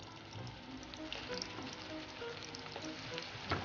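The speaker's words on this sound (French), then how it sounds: "Et on va frire les aubergines." Steady crackling sizzle of eggplant slices frying in hot oil, soft and continuous with small pops.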